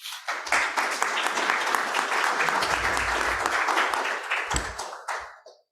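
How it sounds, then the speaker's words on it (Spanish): Audience at a medical congress applauds to welcome a speaker, steady dense clapping filling the room for several seconds before tapering off. "Lo recibimos con un aplauso."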